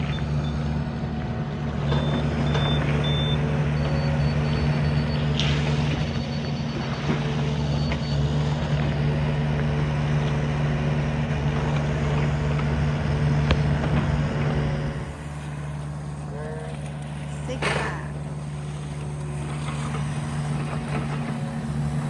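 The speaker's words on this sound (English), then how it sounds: "Now we're bringing the skid steer in to the job site." A skid steer moving onto a job site where a pergola, retaining wall and walkway are being built, its steady engine drone running throughout with a faint high reversing tone over it, loud and continuous with no talk.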